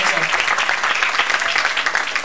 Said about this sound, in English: A round of applause for what's your name again?